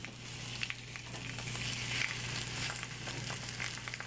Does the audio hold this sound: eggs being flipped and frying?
yes